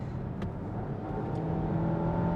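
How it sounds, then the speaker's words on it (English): Alfa Romeo Tonale with a 2-liter turbo engine gives a steady, moderately loud hum with a faint rising rev and whir, heard alone without talk for a couple of seconds. "love the sound of the engine"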